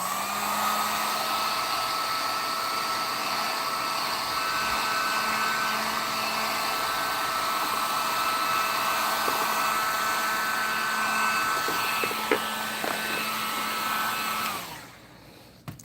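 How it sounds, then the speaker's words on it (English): A heat gun blows on a painted spider body for a custom Webstor build, giving a loud, steady airy roar and whine for about fourteen seconds before it shuts off and goes quiet, with a few small clicks. "I'm just going to hit it with a heat gun a little bit here."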